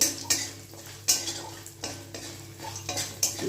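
Lentil dumplings (bori) fry in a pan with a soft sizzle, punctuated by a series of metallic spoon scrapes and clinks against the pan.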